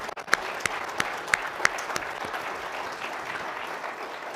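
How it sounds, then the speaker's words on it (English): An audience at the IFMA 2021 House of Delegates meeting applauds, a close burst of steady clapping with a few sharp individual claps standing out, then gradually thinning. "Now let's have a big round of applause."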